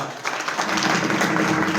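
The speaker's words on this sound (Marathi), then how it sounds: "त्यांच्यासाठी टाळ्या वाजवा एकदा" A crowd claps together at a devotional temple bhajan gathering, the applause rising quickly into a dense, sustained patter that stays even and fairly close throughout.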